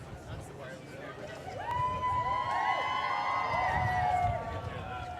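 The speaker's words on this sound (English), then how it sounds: "Lots of cheering fans along the way." Crowd of fans cheering and shouting along a barrier as Prince William and Catherine arrive at UBC Okanagan, a steady roar that swells partway through, with voices talking over it.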